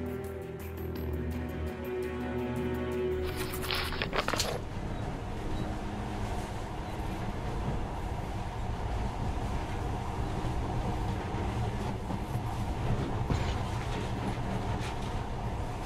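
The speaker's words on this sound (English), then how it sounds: "In the past, trains were ordinary things, but now, this monorail seems magic, doesn't it?" A monorail train in the Metro Last Light Redux video game runs steadily with a continuous rumbling drone and rattle, after a brief rising electronic tone at the start, loud and unbroken throughout.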